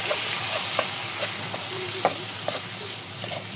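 Chopped onion and green chilli frying in a pan with minced beef, a continuous sizzle broken by repeated stirring scrapes and clicks of a utensil, close and fairly loud.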